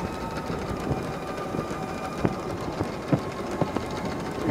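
Jay Leno's steam car running on the road, a steady mechanical rumble and hiss with rhythmic clicking pulses and occasional sharper knocks, close and continuous without talk.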